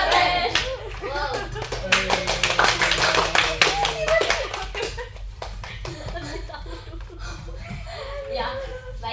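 A classroom group performs the rhythmic 'tepuk keren' clapping chant, bursts of hand claps mixed with children's chanting voices and laughter, loud and close, with talk continuing around it.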